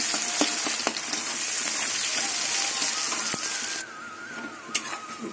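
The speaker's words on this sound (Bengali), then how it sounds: "এবার আমি পেঁয়াজ কুচোগুলো দিয়ে দেবো। পেঁয়াজটা ভাজবো কিন্তু লাল করবো না।" Chopped onions frying in hot oil in a pan, a dense continuous sizzle with scattered crackles and occasional stirring clinks, close and steady, for a fish-head pui shak dish.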